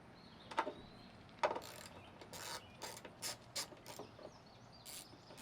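8mm ratchet turning the tail light bolts on a Jeep Gladiator, a faint close run of quick clicking pawl ticks, with a couple of sharper knocks early on and softer bursts of ratcheting later, no voices.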